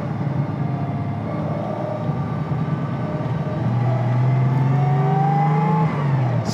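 A 1956 Mercedes 300SL Gullwing is driven on a road, its engine drone rising as it accelerates through the gears, heard steadily from close inside the car.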